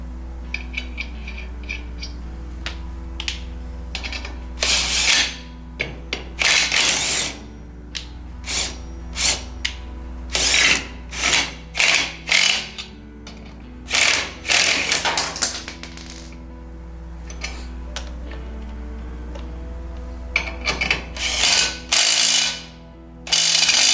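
Lug nuts are threaded onto the front brake drum hub of a 1932 car, with a ratchet clicking in quick, close bursts separated by short pauses over a steady low hum.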